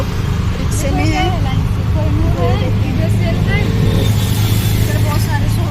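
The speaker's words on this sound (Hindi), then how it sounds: "अभी हम लोग रिक्शे में हैं।" Auto rickshaw riding through traffic on the way to Vashi market, with a steady low engine drone and road rumble throughout and scattered faint horns and traffic noise around it.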